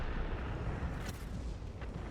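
Dense, booming rumble of tank gun fire and battle noise in a tank video game, with the T-100 LT light tank in play. The roar fills the whole stretch, and a couple of sharper cracks stand out in the middle.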